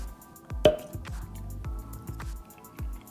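Chicken salad with sauce and sesame is stirred together in a bowl, giving close, quiet wet squishes and soft drips repeating in an uneven rhythm.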